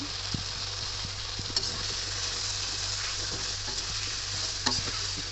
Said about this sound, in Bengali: এখন তরকারিটা কষিয়ে নিচ্ছি